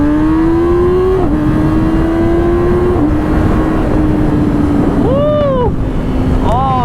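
A 2019 Yamaha R6 sport motorcycle's exhaust drones loud and near with a steady engine note and brief throttle dips, then snaps through several quick rising revs toward the end.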